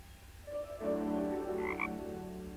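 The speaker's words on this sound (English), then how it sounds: "Frogs." Frogs croak in a video game world of metal and fabric, a steady chorus of layered throaty calls rising over soft ambient music, close and continuous.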